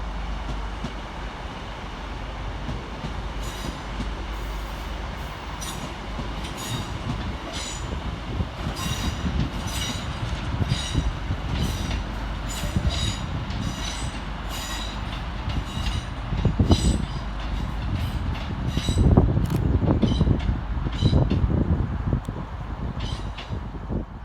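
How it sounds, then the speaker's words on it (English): Northern class 150 diesel multiple units at Stockport railway station, Manchester Piccadilly to Hazel Grove service: a steady rumble of wheels with rhythmic clicks over rail joints and squeals, growing louder near the end, no talking. "Arriving next into the station is 150-105 and 150-126, working the 1533 Northern service from Manchester Piccadilly through to Hazel Grove."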